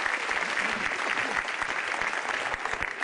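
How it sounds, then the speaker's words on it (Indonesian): A stand-up comedy audience applauds for Metro TV, with steady, dense crowd clapping that stays loud throughout and has no clear speech over it. "Tepuk tangan buat Metro TV."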